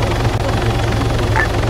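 A helicopter in the video game Arma 3 drones steadily with a low rotor throb and engine whine, heard continuously without any talk.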